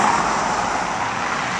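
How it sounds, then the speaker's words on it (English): Cars pass by on a city street outside a theater at night, a steady close road roar with tire hiss that stays loud and even for the whole short stretch. "Cars going by."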